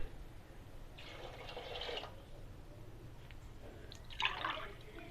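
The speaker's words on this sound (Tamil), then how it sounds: "3 கிளாஸ் தண்ணி ஊற்றிக்க போகிறேன்" Water poured into a pot of rice for vegetable biryani, two brief splashy pours separated by a pause, soft and close with low background hum.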